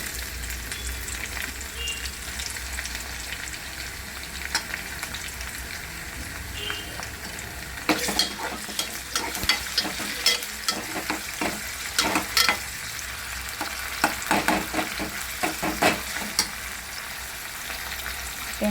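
Onion and tomato fry in a pan for a spinach and potato curry, a continuous hiss of sizzling with bursts of sharper crackle and spatula scraping in the second half, near and fairly loud, no voice.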